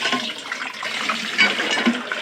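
Water poured into a dish to give a pigeon a bath, a steady splashing, tap-like rush that runs without pause, close by and moderately loud.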